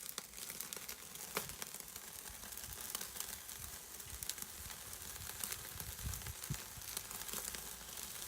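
Eye of ribeye steak, cooked sous vide and being seared on a hot grill, giving a constant crackling sizzle with scattered sharp pops, steady and not loud, with no voices.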